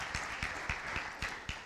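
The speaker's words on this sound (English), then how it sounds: "And a round of applause for Scott" Light audience applause for a presenter at a design lecture, sparse individual claps at a steady loose rhythm, soft and slightly distant in a room.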